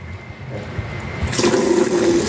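Water gushes from a newly installed kitchen tap replacing a broken one on PVC pipe, starting as a faint trickle and then swelling into a loud, steady rushing stream close by.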